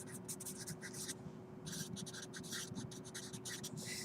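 Pen or chalk scratching out an equation, quick bursts of short strokes with a brief pause in the middle, close and quiet over a faint steady hum.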